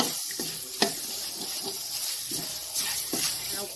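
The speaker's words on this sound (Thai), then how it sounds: "คั่วหอมไก่สุกแล้ว" Chicken pieces stir-frying in a pan with a steady sizzle, broken by several scraping stirs of a utensil, close and moderately quiet with no talking.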